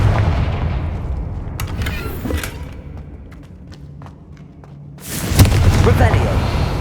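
Confringo fire spell blasts in the Hogwarts Legacy video game, a muffled booming burst at the start and a louder explosive blast near the end, with scattered crackles and thuds between over a low rumbling game backdrop.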